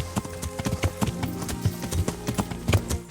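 Horse hooves gallop in the medieval video game Kingdom Come Deliverance, a quick, rhythmic clip-clop of repeated hoofbeats, close and clear with no talking.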